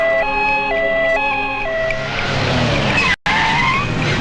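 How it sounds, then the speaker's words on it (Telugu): An ambulance siren wails in a stepped two-tone pattern, then fades into the roar and screech of a vehicle skidding. The sound cuts out briefly near the end. A comedy film scene. "అది అంబులెన్స్"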